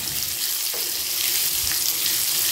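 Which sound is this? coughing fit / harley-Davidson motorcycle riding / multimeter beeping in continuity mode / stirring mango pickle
stirring mango pickle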